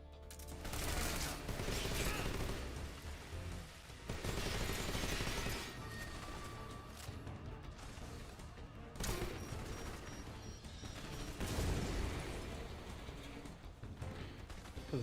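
AK-47 fire in Metal Gear Solid Delta: sustained automatic bursts and heavy crashing impacts, dense and loud, broken by brief pauses and a few sharp single shots, with no voice.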